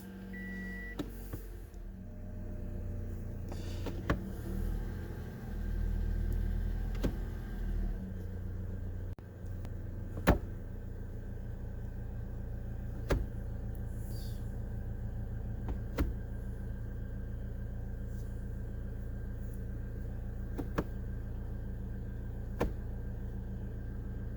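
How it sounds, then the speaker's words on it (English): A 2016 Toyota Corolla engine idles steadily during a transmission flush, a low, even hum with occasional sharp clicks and knocks spread through the run, no voices. "I'm going to fire it back up."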